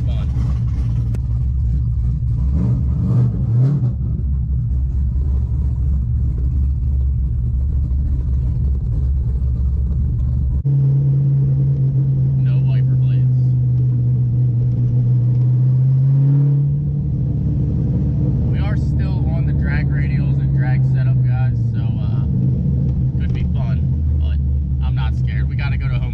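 Engine drone of a Chevrolet Corvette C5 driving in the rain, a constant low rumble with a steady pitch shift partway through, under someone talking.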